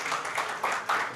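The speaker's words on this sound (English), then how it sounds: "Please, another round of applause for them." Audience applause at a company launch event, a short burst of crowd clapping with dense overlapping hand claps, moderately loud and steady.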